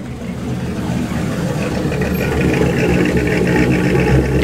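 A yellow Lotus Chimera V6 mid-engine sports car idles and burbles steadily nearby, the low rumble swelling slightly as it revs gently.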